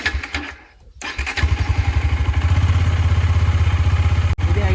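A Bajaj Dominar motorcycle with its stock silencer starts after a short crank and settles into a close, steady, throbbing idle with an even pulsing beat.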